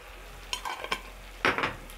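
Tomatoes cooking in a pan for a creamy pasta, with a low steady simmer broken by a few short clinks and scrapes of stirring, the loudest near the end.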